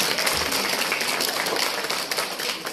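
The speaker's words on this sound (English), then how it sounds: "Let us welcome them all with a round of applause" Applause at a guest felicitation ceremony: a dense, steady wash of many hands clapping, even in level throughout and fairly loud.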